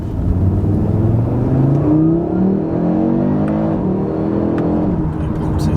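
An Audi RS3 engine revs and accelerates with a rising, sweeping drone that stays loud and close throughout, with no voices.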